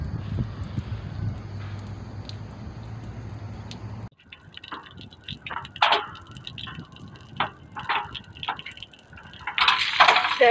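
Water gushes out of a truck's tank, starting as a steady rushing stream that cuts off abruptly, followed by irregular splashes and spattering with wind noise on the microphone.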